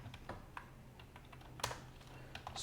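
Keys clack on a computer keyboard as a Linux terminal command is typed, a quick run of separate close taps spread unevenly across a short stretch, heard alone with no talking.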